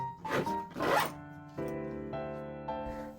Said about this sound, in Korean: 이것도 그냥 꾹꾹 눌러서 지퍼 쫙.